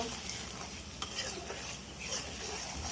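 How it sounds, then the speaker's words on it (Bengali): Masala spice paste is stirred in a pan after being covered to cook down, producing a dense, steady sizzle with soft scraping strokes and one brief clink, close and loud, with no voices. "ঢাকনাটা উঠিয়ে নিব, মশলাটা নাড়িয়ে নিব।"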